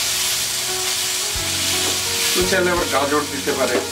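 Chicken shashlik and onions are pressed down on a hot tawa, frying with a dense close sizzle that swells into louder spattering bursts toward the end, with a few dull knocks.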